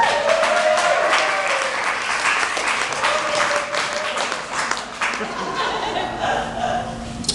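Applause and cheering from an audience at a live show greet a singer as he is introduced, with steady, dense clapping and some laughter mixed in throughout.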